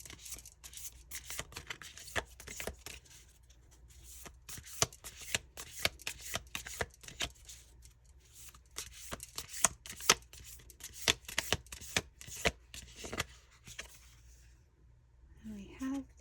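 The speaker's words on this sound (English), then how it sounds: "It really does feel nice to shuffle these." Tarot cards from a Soul Reflections deck with smooth, buttery paper being shuffled by hand, a steady run of soft riffling and sliding slaps close to the microphone, with a brief pause near the end and no talk.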